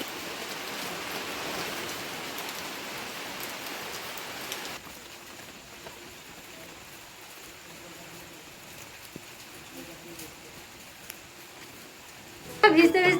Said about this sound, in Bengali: বৃষ্টি কমছে বলে অনেকক্ষণই দাঁড়িয়ে থাকলাম কিন্তু বৃষ্টি কমলোই না